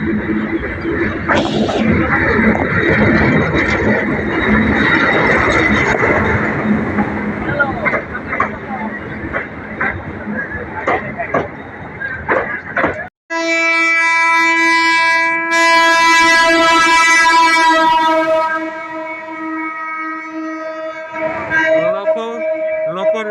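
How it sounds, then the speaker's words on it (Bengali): A suburban commuter train pulls into a station near Narayanganj and Dhaka, starting with loud rumbling and clattering wheels amid platform crowd babble, then a long, loud, harmonic horn blast about halfway through that dominates before the rumble returns. "ঢাকা থেকে ট্রেন সাইড আসতেছে"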